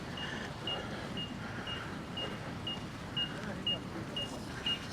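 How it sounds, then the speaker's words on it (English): A vehicle beeps repeatedly at an even, quick pace over a low rumble of traffic along the Paphos boardwalk, the short high tones fairly distinct against the background. "Despite that annoying beep."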